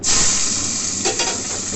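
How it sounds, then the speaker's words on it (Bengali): Green chillies sizzle in leftover fish-frying oil in a wok, a loud, close, continuous hissing crackle with a brief surge of spattering midway; no voices. "এবার আমি কড়াতে ওই মাছের তেলে কাঁচা লঙ্কা"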